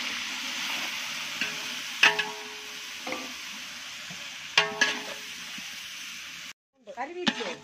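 Tomatoes fry for biryani, giving a soft, steady sizzle broken by several sharp clanks and scrapes of a spoon stirring the pan, with a short burst of louder clatter at the end.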